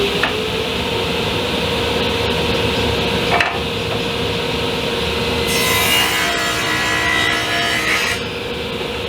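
A table saw cuts wood pieces for a bedroom makeup station build, a steady loud whine of the spinning blade with a harsher rasping burst as the board feeds through, no talk.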